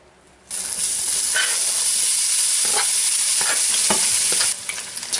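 Cut-up bacon pieces hit a hot fry pan and burst into loud, steady sizzling and hissing fat, with a few scrapes as the pieces are moved, quieting near the end.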